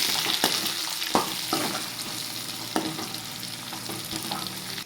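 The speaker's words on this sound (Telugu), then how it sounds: "ఫస్ట్ కొంచెం కరివేపాకు వేసుకోండి" Curry leaves drop into chicken keema frying in a pan, setting off a loud, close, crackling sizzle with a few sharp pops and spatters as the mixture is stirred; no voices.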